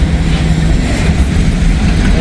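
A train rolls past at a rail crossing in Ohio, a loud, steady rumble of engine and wagons with low clattering, continuous and close throughout.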